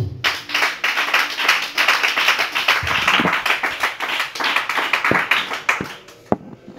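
A church congregation claps together in a fast, strong, rhythmic pattern, close and loud, with a few sharp individual claps standing out as the clapping winds down.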